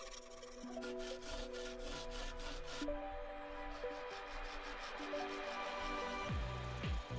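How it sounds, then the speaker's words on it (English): A rasp files rough edges off an aerated concrete block being carved into a Moai head, producing rhythmic scraping strokes in quick repeated bursts, close and fairly loud, with a sliding tonal scrape near the end. "And then taking the rasp, I removed the rough edges around the sides and back."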